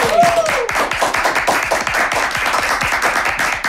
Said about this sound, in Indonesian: Tepuk tangan buat Dekat.